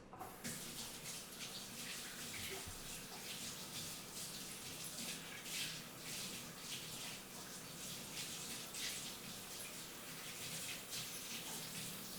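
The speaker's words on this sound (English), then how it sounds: "So I'm going to rinse my mixer beaters." Electric mixer beaters are rinsed under a running kitchen tap: a steady, close, fairly loud stream of water splashing continuously, with no talking.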